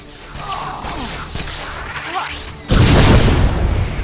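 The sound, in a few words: explosion in Star Wars: The Old Republic video game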